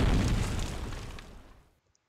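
A single close grenade explosion in Medal of Honor Allied Assault: a heavy, loud boom that hits at once and rolls off over about a second and a half into near silence.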